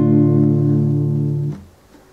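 A single basic open chord strummed on a guitar rings out clearly and sustains for about a second and a half, then is damped to near silence, heard alone without any talking.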